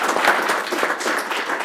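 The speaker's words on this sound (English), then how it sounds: "So a round of applause for you for our board." A school board meeting audience applauds with dense, continuous clapping that holds steady for the whole short stretch.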